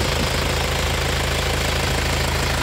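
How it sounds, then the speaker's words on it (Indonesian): A 2000 Isuzu Panther New Royale diesel engine runs at idle, a steady close-up rhythmic knocking clatter over a low rumble, with no talking. "untuk suara mesinnya seperti ini"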